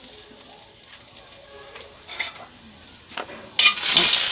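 Ginamos, a fermented shrimp paste, stirred and frying in a pan, with a soft steady sizzle, scattered clinks of a utensil, and a sudden louder burst of hissing near the end as it spits in the hot oil.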